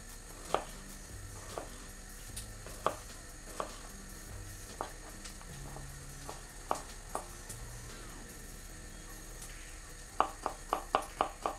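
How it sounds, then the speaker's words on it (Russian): A knife chops garlic finely on a cutting board while eggplant cooks for an appetizer. Sparse, sharp taps speed up into a quick, even burst near the end, over a steady background sizzle of frying. "Это чесночок мы нарезаем мелко-мелко."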